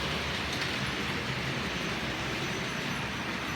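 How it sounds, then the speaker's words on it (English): OO gauge model trains running together on a home layout, giving a steady, even rolling rumble throughout with no pauses, moderately loud and with no voices. "All the trains are running."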